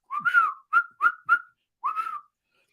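A person whistles a short tune alone: five clear sliding notes, a long one, three short ones, then another long one, close and quiet.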